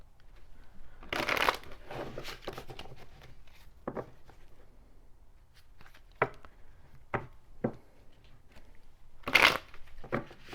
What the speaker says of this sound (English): Let's do 3 shuffles as well.